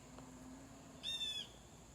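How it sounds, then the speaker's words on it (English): Blue jay gives one short, harsh call around midway, a single brief burst rising out of a quiet outdoor background with nothing else around it. "Here's a blue jay."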